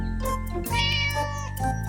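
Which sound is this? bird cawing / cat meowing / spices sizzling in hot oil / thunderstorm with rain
cat meowing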